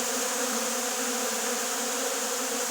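Honeybees buzz steadily near their hive, a dense, even drone of many wings heard close and continuous with no voices.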